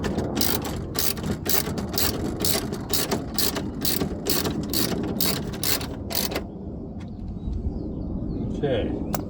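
A hand ratchet snugs window regulator bolts inside the door of a 2014 Chevy Cruze, sounding as rapid, close, crisp clicking in quick bursts over several seconds before stopping, followed by quieter handling noise.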